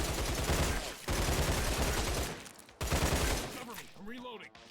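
In the Line of Sight video game's shooting range, loud close gunfire rattles in rapid bursts broken by short pauses, the last burst thinning out into a ringing tail.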